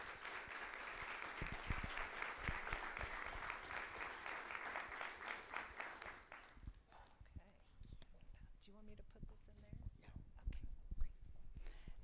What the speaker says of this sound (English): We'll give her a round of applause as she joins us.